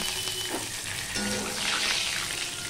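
Mustard oil sizzles steadily in a hot, empty wok, a close, continuous hiss with no talking.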